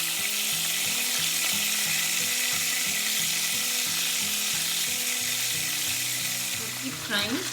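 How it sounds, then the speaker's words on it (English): Ginger garlic paste sizzles and fries loudly in a hot pan, a steady dense crackle that stays constant throughout with a brief stirring scrape near the end. "So keep frying"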